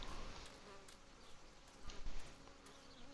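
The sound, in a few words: buzzing flies in the video game Martha Is Dead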